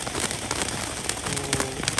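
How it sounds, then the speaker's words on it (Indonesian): A Sonic Fountain firework throwing out colored balls burns at night with dense, continuous crackling and sharp popping, loud and close, with no talking. "Jadi Sonic Fountain itu kalau menyala seperti ini ya."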